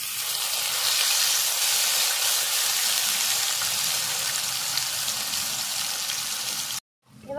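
Cumin, ginger, garlic and green chili paste sizzles steadily in hot oil for a Bengali tel potol dish, a loud close broadband hiss that holds evenly before cutting out abruptly near the end.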